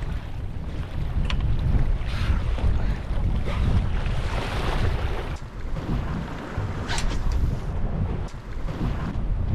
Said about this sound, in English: we've got a pretty decent amount of wind and waves out here